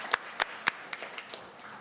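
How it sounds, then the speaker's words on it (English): Scattered hand claps from a small audience at a Toronto-area economic and community development committee meeting, a few sharp distinct claps followed by quieter ones trailing off, with no talk over them. "Big round of applause for Cisco Canada"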